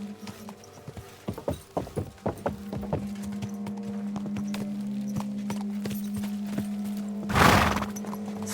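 A mare's hooves clip-clop in Kingdom Come: Deliverance II, a quick run of loud, close steps that slows and stops, followed by a long steady hum and a brief snorting burst near the end.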